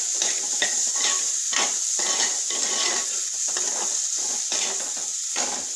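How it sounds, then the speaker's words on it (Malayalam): Tomatoes and onions sautéing in a pan, with a spoon scraping and stirring in repeated short bursts over a steady sizzle, close and fairly loud, no talking. "ഈ തക്കാളി കൂടെ ഇട്ട് നല്ലവണ്ണം വഴക്കി എടുക്കും"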